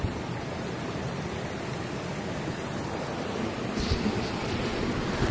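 A stream flows at a small Appalachian Trail water crossing spanned by a makeshift bridge, heard as a steady, close rush of water with no pauses and no voices.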